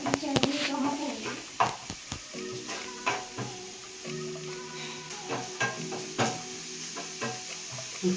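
Onion frying in a pan gives a steady sizzle, with scattered spatula clicks and scrapes as it is stirred, while a person talks over the cooking throughout.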